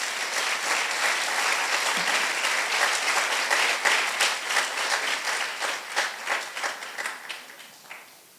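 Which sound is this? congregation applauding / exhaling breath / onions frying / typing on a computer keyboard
congregation applauding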